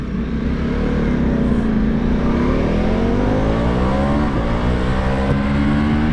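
A Ducati Multistrada motorcycle engine revs loud and close, its tone sliding down and then climbing as the throttle is worked, with no speech over it.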